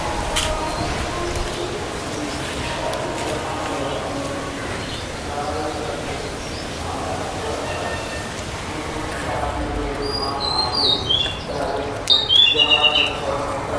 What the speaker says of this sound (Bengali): সকালবেলা কি সুন্দর পাখির ডাক মাসাল্লাহ